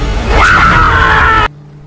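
A man screams in pain in a film scene, one loud, strained, sustained cry lasting over a second before cutting off abruptly into near silence.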